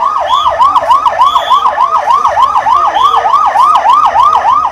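Wailing emergency siren sounding in Bengaluru during a civil defense mock drill, a loud, close, rapid up-and-down sweep that repeats steadily throughout with no pauses.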